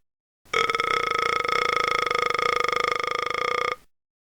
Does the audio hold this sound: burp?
yes